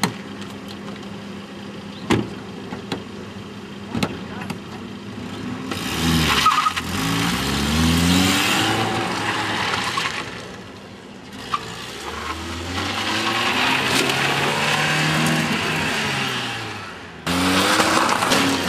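A car accelerates away hard with revving engine, rising gear whines and squealing tires during a staged chase scene, with repeated close passes and roaring bursts, sharp clicks and gaps of quiet between runs.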